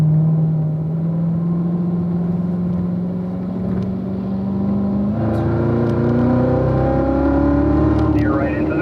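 A car accelerates on a race track, its engine note rising steadily, then dropping sharply at a gear change before climbing again toward fourth gear, loud and close.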